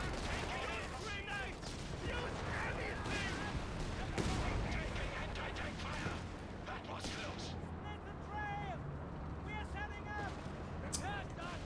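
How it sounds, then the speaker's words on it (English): A Nebelwerfer artillery barrage in Company of Heroes 3 rumbles with repeated booming blasts and crackling impacts, heard under steady commentator talk. "Nebelwerfer is going to create some distance. So that's why we barrage this area,"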